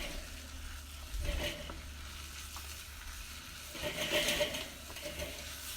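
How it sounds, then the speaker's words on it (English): Squash laksa simmers on a hot barbecue, sizzling and bubbling steadily up close, with brief louder bursts of stirring or scraping in the pot and no talk. "And now that's just going to simmer away nicely"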